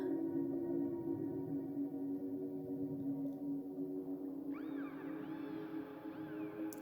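Whale calls float over a dense low drone: long moaning tones and rising, sweeping cries that grow clearer and more layered toward the end, with no talk.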